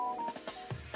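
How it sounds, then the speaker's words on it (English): A phone notification chime goes off in a home kitchen while onions and bell peppers are being cooked, a short run of faint electronic beeping tones, quiet and close. "every time I start a video and do the recording, my notification bell comes on and it rings into the video"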